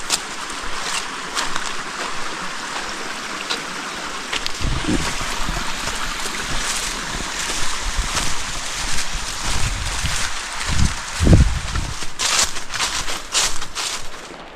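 Steady rushing of a stream at a trail crossing on the Palmetto Trail's Blue Wall Passage, a continuous broadband wash with light wind buffeting and a few low thumps near the microphone.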